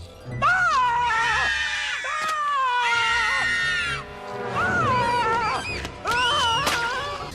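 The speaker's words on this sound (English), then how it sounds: "Remy the rat surfaces from the brown England water and starts screaming at a cluster of slugs." An animated cartoon rat screams loudly in a film scene, shrill wavering wails repeated in several long bursts that sound almost cat-like, with little pause between them.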